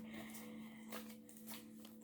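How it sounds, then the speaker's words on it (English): Tarot cards being shuffled, a soft, faint rustle and riffle over a steady background hum, with no talking. "we are shuffling now for Gemini"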